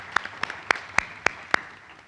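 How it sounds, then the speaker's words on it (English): Six sharp claps land at a steady, even pace, close and distinct, in a quiet conference room with no talking. They sound like a few hands rather than a full round of applause. "So can we get him a round of applause?"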